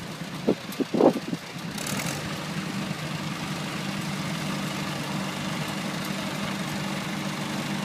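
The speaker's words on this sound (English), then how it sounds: "Slowest running engine I've ever seen, and it just keeps pulling and pulling and pulling." An old, slow-running tractor engine idles steadily at low volume, a continuous low rumble after a couple of brief knocks at the start.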